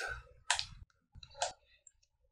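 Two sharp keystroke clicks, the Enter key pressed on a computer keyboard while typing in a design program, each a crisp close tap with quiet pauses between and no talking.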